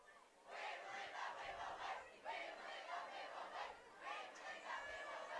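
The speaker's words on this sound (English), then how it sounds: "I always get a kick out of that cheer, Ken." A crowd at a Westby vs Viroqua high school varsity football game chants an organized rhythmic cheer in repeated pulses, sounding distant and filling the stands.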